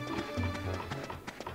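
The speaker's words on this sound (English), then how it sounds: "I know what their footsteps sound like." Enemy footsteps from the video game Dark Cloud 2 in the Zelmite Mine dungeon, a quick run of light tapping steps like clip-clopping hooves, moderately loud among game sounds.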